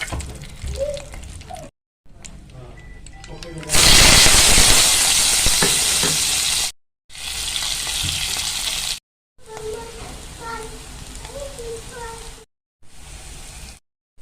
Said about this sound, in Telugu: ఇప్పుడు ఈ ఆయిల్లోనే ఆవాలు,